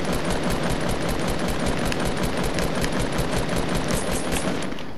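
Rapid automatic fire from a SCAR assault rifle in a video game, a dense, steady stream of loud close shots running unbroken from start to finish.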